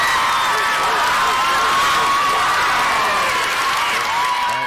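The audience at a live music show cheers and applauds loudly and steadily, a dense wash of clapping and whoops with no break.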